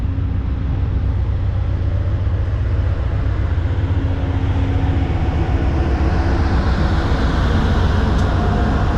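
A VIA Rail passenger train crossing a bridge in Montreal, a loud, continuous low rumble and roar of wheels and cars that holds steady and swells slightly toward the end.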